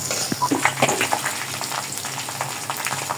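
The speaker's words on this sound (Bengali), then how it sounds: "পেঁয়াজটা ভাজা হয়ে গেছে," Onions frying in oil in a wok, a steady close sizzle with occasional stirring scrapes and small pops, no voices.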